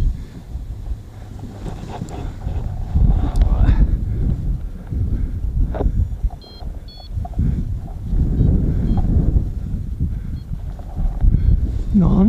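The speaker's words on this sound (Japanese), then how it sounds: "突風なんだよね。" A westerly gust buffets the microphone during a flight, making a continuous low rumbling roar that swells and eases across the whole clip. A muffled voice can be heard at moments.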